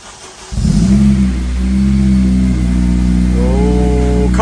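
Car engine cold-starting through a 3 inch Dynodaze exhaust: a sudden loud crank and catch, then a deep, steady rumbling idle held close and strong, the tone rising slightly near the end.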